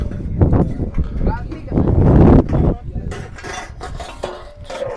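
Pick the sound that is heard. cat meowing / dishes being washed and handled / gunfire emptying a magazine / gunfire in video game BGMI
dishes being washed and handled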